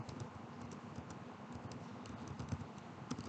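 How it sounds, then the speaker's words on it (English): Typing on a computer keyboard while entering words into an Excel spreadsheet cell, a steady patter of soft, close key clicks running evenly throughout with no talk. "So say you want to type in mashed"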